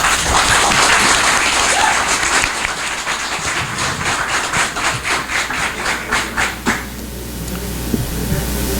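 An audience at a KPPCSD community services district meeting applauds steadily, then the clapping thins and fades out, leaving quiet room tone and a few faint knocks.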